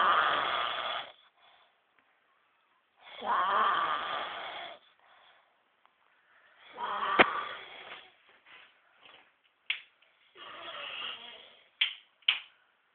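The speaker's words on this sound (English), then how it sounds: "You can't even hear my whisper over your snoring." A man snores heavily in a quiet bedroom at night, with long, rasping inhalations repeated about every three seconds. A few sharp clicks and soft rustles fall between the later breaths.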